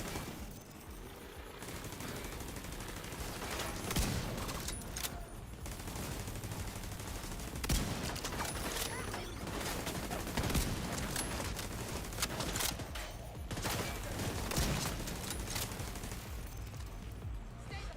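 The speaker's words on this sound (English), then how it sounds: "Oh, I'm just shooting randomly." Sustained gunfire from shooting in The Division 2, a dense stream of rapid shots and bursts at steady loudness that runs the whole time with no talk.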